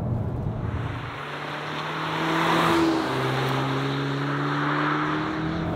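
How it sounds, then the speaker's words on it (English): A 2023 Cupra Formentor's engine hums in sport mode with a deep, steady drone heard from inside the cabin, its pitch rising and then holding as it revs. "the sport mode, the noise that's coming into the cabin is pretty cool"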